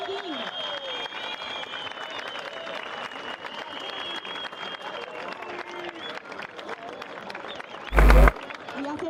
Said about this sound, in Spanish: Así que un aplauso gigante para Tristan Roberts de Sudáfrica, que quedó